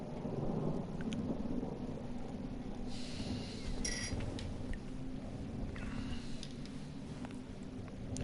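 Steady rain falls throughout a thunderstorm, with a low rolling rumble of thunder swelling in the middle and fading, heavy and close.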